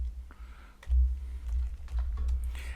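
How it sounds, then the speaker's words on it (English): Typing on a computer keyboard sits on a couple of headphones and is struck from the side. Irregular soft key clicks and thumps run through the whole clip over a low rumble. "I'm typing from the side."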